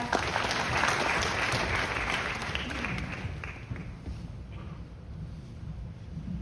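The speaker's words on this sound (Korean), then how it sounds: "큰 박수로 맞이해주시기 바랍니다" Loud applause from a sizable crowd at a redevelopment briefing in Yangji Village, dense and steady at first, then gradually thinning and fading.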